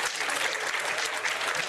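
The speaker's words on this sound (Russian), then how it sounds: "И аплодисменты сразу." Sustained applause from a studio audience on a Russian political TV talk show, a dense, steady wash of many hands clapping at close range, fairly loud and even throughout, with no voices standing out.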